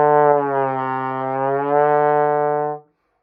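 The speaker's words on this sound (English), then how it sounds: "Glissando sounds like this." A beginner's trombone plays a single sustained brass tone for nearly three seconds, a rich stack of harmonics holding a steady pitch with a slight bend midway before it stops abruptly, loud and alone with no talking.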